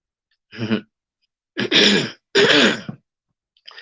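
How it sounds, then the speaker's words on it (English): A person clears their throat in three rough, forceful bursts separated by short pauses, close to the microphone, with another beginning at the end. "I just gotta clear my throat"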